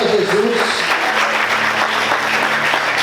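A church congregation claps in worship, a dense sustained round of applause from many hands, with a low hum of sound system or music tones running underneath.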